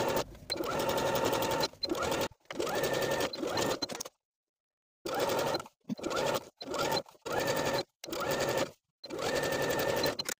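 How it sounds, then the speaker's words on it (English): A sewing machine runs a straight stitch topstitching around the waistband of comfy pants, in repeated close whirring bursts separated by short pauses, one longer silence midway. "the second row of top stitching will be 5/8 of an inch above this waistband seam, again stitching all the way around"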